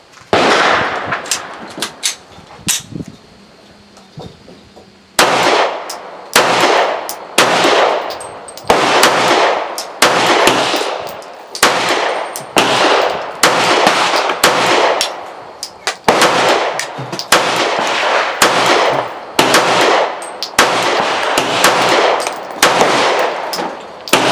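A Palmetto State Armory Dagger 9mm pistol fed from a Glock magazine, firing loud, sharp shots in quick strings with brief pauses between groups, close and echoing with metallic ring, no speech.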